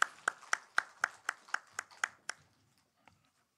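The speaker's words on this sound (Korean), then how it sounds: "다시 우리 축복의 박수 하십시다." A church congregation at a Sunday worship service claps in about ten crisp, evenly spaced beats that stop abruptly, leaving near silence with one faint stray clap.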